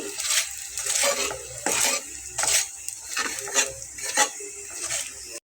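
A paratha fries in oil in a pan for a Bengali breakfast, with repeated utensil scrapes and metallic clinks against the pan over a soft sizzle, nearby and unhurried.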